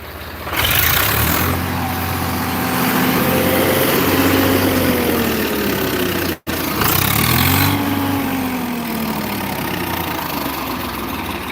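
A Holland 5630 diesel tractor engine idles with a steady low rumble, revving up twice in long swells that rise and then settle back down, close and loud.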